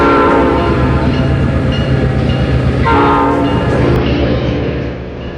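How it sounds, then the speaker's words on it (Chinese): A train pulls away with a sustained horn sounding over the rumble of rolling rail cars, loud and continuous, fading slightly at the end; no speech is audible. "一辆满载着蔬菜和水果的火车悄然离开初冬的北京"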